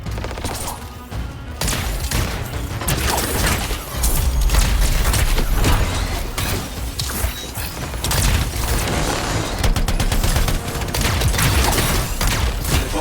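Turret gunfire in Anthem, a long barrage of rapid mechanical shots with heavy booms and crashing impacts, loud and nearly continuous throughout.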